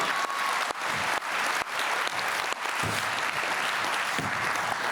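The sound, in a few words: applause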